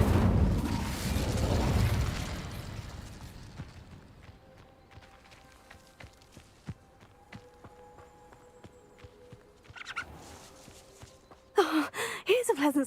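An Incendio fire spell in Hogwarts Legacy erupts in a loud, roaring blast up front that fades over a couple of seconds, followed by quiet footsteps and clinks, then a voice speaks.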